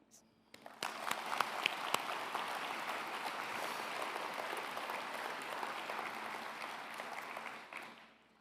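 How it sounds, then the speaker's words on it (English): An audience at the North Dakota Petroleum Foundation awards luncheon breaks into applause, rising quickly to a steady, even clapping that holds for several seconds before tapering off, with a few sharp individual claps standing out. "I would like you to please join us in applause to thank Ed for his leadership, generosity,"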